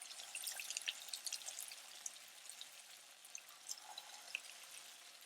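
Cheese-stuffed corn fritters frying in a skillet of oil on low heat, a faint, soft crackling sizzle with scattered pops, steady and quiet with no talk.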